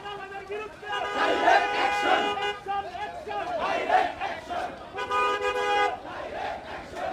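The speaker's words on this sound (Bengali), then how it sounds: "বিভিন্ন নামে কিন্তু তারা স্লোগান দিচ্ছে" Protesters chanting slogans at a street march against extortionists, a crowd of voices calling in rhythmic bursts with a car horn honking over the din, loud and close.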